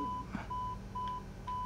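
Master warning alert in an Airbus A320neo cockpit in Microsoft Flight Simulator: a repeating electronic tone pulsing at a steady rhythm over low cockpit hum, with no talking.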